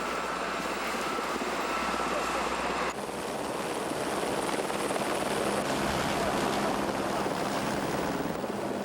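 A rescue helicopter hovers near a densely forested mountainside in strong wind, its rotor drone loud and continuous throughout while a voice speaks over it.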